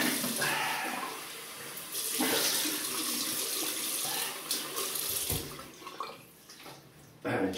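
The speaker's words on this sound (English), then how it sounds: "So I just rinse off." Tap water runs steadily into a sink while a man rinses his face after a shave with a Merkur Futur safety razor, the flow shifting in intensity with splashes and a brief pause near the end.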